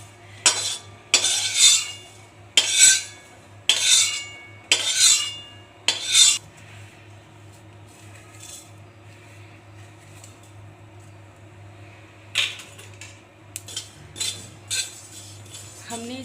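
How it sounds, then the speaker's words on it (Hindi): A spoon scraping and clinking against a pan as spices are stirred and roasted on high flame, six sharp rhythmic strokes in a row, then a pause with a low hum before a few more scattered scrapes. "इसे भी हाई फ्लेम पे लगातार चलाते हुए भूनेंगे।"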